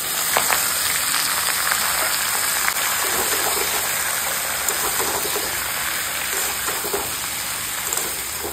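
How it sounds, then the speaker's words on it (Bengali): Bottle gourd frying in hot oil with dried red chilli, nigella seeds and green chillies, giving a dense, even crackling sizzle held close and loud throughout. "এখন দিয়ে দিচ্ছি আমি লাউগুলো।"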